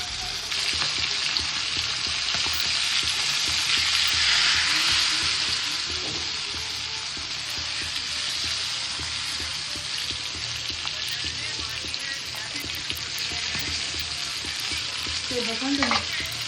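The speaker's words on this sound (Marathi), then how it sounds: "कधी पण मच्छी तळताना ना सुरुवातीला गॅस फास्टच ठेवायचं, कमी नाही करायचं." Pomfret fish fries in a pan over a high flame, giving a loud, continuous sizzle and spatter that holds steady throughout with no talking.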